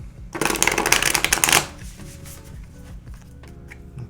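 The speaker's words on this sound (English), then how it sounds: "I'm going to shuffle this one more time." A quick, crisp riffle of tarot cards being shuffled, a burst of rapid flapping lasting about a second, followed by soft handling sounds.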